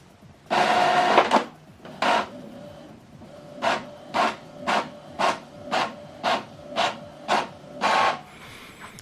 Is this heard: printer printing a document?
yes